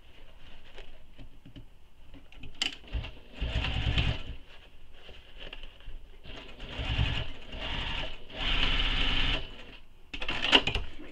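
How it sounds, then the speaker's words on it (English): A sewing machine stitches two nylon bag linings together, catching a bit of the exterior, in bursts of rapid mechanical whirring separated by pauses and small handling clicks, close and fairly loud. "I'll end up stitching a little bit of my exterior and my lining together, or sorry, my two linings together"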